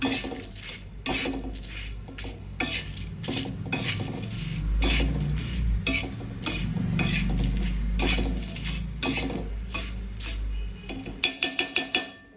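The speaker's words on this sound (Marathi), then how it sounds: "हे थोडेसे फ्राय करून घेऊया." Grated coconut frying in hot oil, stirred briskly in a metal pan: a constant sizzle under repeated scraping and clinking strokes of the spoon, close and busy, ending in a quick run of sharp taps on the pan's rim.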